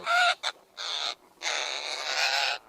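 A young African grey parrot chick, about 30 to 40 days old at a breeding facility, gives several loud, harsh, raspy squawks in close succession, near and alone.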